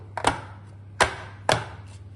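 A pan of Nutella brownie batter is knocked against a counter in three sharp, close thumps: a quick double tap, a pause, then two more spaced about half a second apart.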